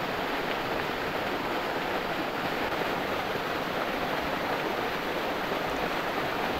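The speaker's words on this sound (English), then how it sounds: "There's also a natural spring and fall located right there by the cave." A natural spring waterfall beside a cave at a campground resort produces a steady, even rush of falling water, continuous and moderately loud without pauses.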